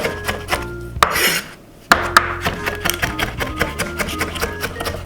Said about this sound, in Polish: Plastry ogórka siekam w kostkę.